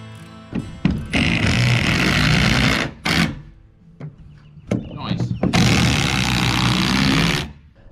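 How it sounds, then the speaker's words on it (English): 3-inch Simpson Strong-Tie SDWS washer-head screws driven with a power driver into tall foundation wall forms, heard as three loud whirring bursts, two long and one short, with quiet pauses between. "As we screw that in, it pulls that wall into a nice straight line."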